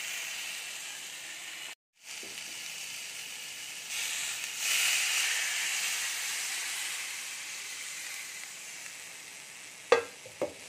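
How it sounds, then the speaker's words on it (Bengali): Water poured into a hot pan of bottle gourd curry bursts into a loud hiss and sizzle, then settles into steady bubbling and steaming, with a couple of clinks near the end. "এবারে আমি জল দিয়ে দেব।"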